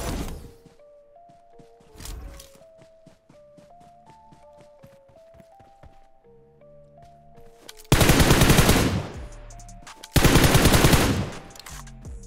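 Gunfire in PUBG Mobile on the Livik map: scattered single shots and short bursts under a melodic game tone, then two loud, sustained automatic volleys close by near the end.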